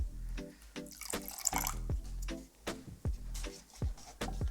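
Water being stirred into furniture paint for a dining table makeover, with repeated wet sloshing and clinking strokes in a steady mixing rhythm, close and fairly loud with no voices.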